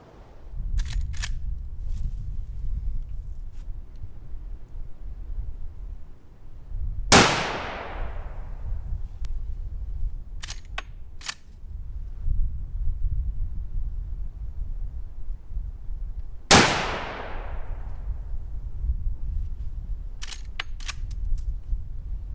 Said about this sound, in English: I'm going to try 3 more shots with that Hornady Lever Revolution ammunition